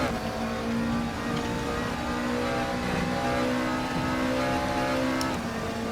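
Steady engine drone of a McLaren 650S GT3 race car in the RaceRoom sim at Paul Ricard, held at a constant loud level with shifting pitch and no talk.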